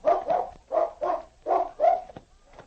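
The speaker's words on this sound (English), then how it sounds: "he stopped and barked to indicate he had found the scent" A dog barks in a radio drama scene, six or seven loud, close barks in quick pairs and singles, then a short trailing yip, with no talk over them.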